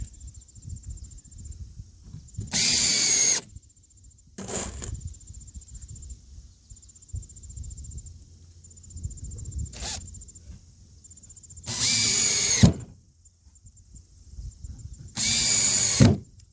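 Power drill driving screws into a wooden Peterson bluebird house, sounding in several short bursts of close, loud whirring separated by quieter pauses with light handling noise.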